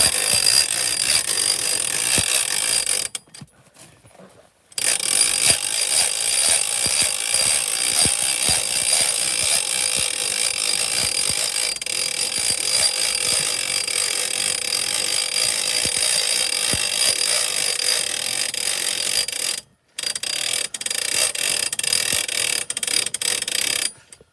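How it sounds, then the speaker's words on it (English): Repetitive ratcheting crank raising one side of a 2016 Ice Castle fish house, a loud steady mechanical clicking that runs almost continuously, broken by two short pauses. "we're going to crank this side all the way up now"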